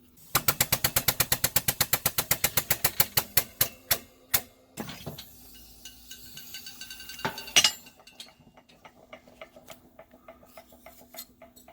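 A press with a machined curving die bends a 16 gauge aluminum sheet: a fast run of sharp, close metallic clicks slows over about four seconds, followed by scattered clanks, a scrape and a louder metal knock, with no talking.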